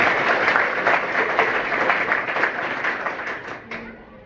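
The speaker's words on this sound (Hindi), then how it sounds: "एक बार जोरदार ताली बजेगी" A crowd claps in dense, lively applause that gradually fades toward the end.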